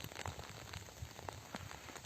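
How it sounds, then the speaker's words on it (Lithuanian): Steady outdoor rain patters on a surface, a dense even hiss dotted with scattered louder drops, continuous and fairly close, with no voices. "Lietus lyja."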